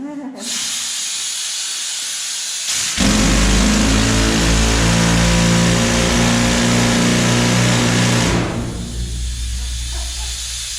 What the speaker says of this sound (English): Compressed air runs in my drill head